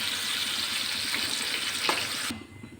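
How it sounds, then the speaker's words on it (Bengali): Pumpkin frying in hot oil in a pan, a steady close sizzle and crackle that fills the clip before dropping away abruptly near the end, with no talking. "কুমড়োটা ভাজতে ভাজতেই নরম হয়ে গেছে, এখন তুলে নিচ্ছি।"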